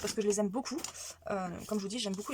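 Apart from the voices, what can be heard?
No distinct noise like a dog, phone or traffic.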